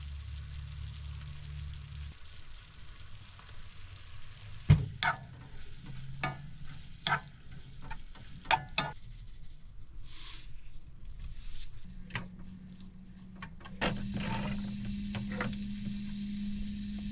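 Ground beef for an enchilada pie sizzles and simmers in a pan, a soft steady frying hiss broken by occasional spoon scrapes and clinks while being stirred, close by and fairly quiet.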